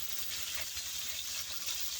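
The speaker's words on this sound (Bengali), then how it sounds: "তো মাছটাকে আমি এখন ভেজে নেব।" Small hilsa fish frying in oil, a steady bright sizzle and crackle close by with no talk, stopping abruptly.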